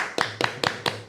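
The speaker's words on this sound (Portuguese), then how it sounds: "a quem eu começo aplaudindo." Hands clap five times in an even, brisk rhythm, close and crisp, to welcome a guest on a Brazilian health podcast.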